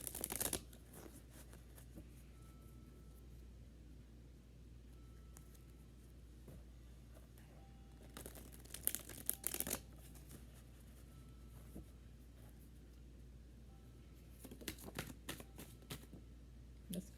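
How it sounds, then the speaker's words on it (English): Tarot cards being shuffled by hand, quiet soft riffling in short bursts separated by near silence, with a few louder flurries of card noise close to the microphone. "So when I shuffle all these cards, I just ask for collective message."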